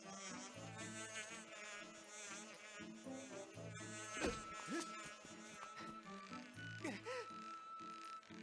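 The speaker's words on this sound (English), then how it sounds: "slingshot the beehive. And the bees will come after you." In the video game Skyward Sword HD, bees swarm and chase the player after their beehive is hit, a steady insect buzz under game music with quiet sound effects.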